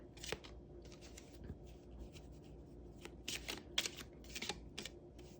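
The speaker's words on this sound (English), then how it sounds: "just tune in as we shuffle, and we're going to pick 3 cards" Tarot cards being shuffled by hand during a reading, soft irregular riffles and flicks in short bursts, close and fairly quiet with no talking.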